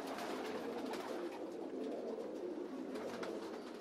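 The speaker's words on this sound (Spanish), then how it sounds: "Tengo estas palomas desde que tenía 14 años." Pigeons kept since the keeper's teens, including an Andalusian, coo steadily in a loft, with soft overlapping calls over a constant, fairly dense background of other birds.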